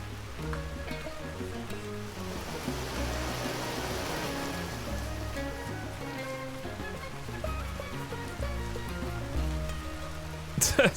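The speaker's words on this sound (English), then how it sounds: "Sounds like hail." Hail pattering steadily in Vintage Story, a dense, even rattle of small impacts over a low ambient bed, continuous throughout with a brief louder clatter at the very end.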